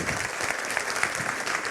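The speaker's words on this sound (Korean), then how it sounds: "좋은 말씀 주신 우리 법륜스님께 큰 박수 부탁드리겠습니다" An indoor audience at a talk concert applauds Venerable Pomnyun, a dense, steady clapping that fills the room from start to finish without breaks.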